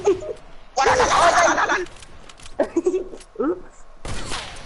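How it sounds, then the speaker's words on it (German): Rapid bursts of gunfire from the Fortnite video game crackle in dense volleys, stopping and starting between pauses, with a player's voice and laughter mixed in. "wie viele Schüsse!"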